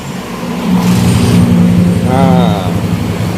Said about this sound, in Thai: ก็ตอนนี้ก็ฟังเสียงเครื่องดูนะครับ